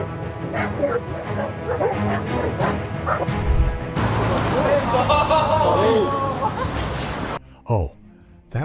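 Two dogs bark, yip and whimper frantically while attacking a snake, close and loud, with an excited crowd of voices babbling throughout and a brief sharp yelp near the end.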